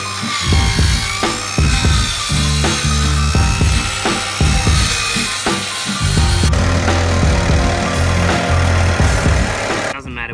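Plywood boat struts being cut with a power saw in a workshop, a loud, steady mechanical whir with repeated rattling, ratchet-like bursts that runs for about ten seconds and stops abruptly near the end.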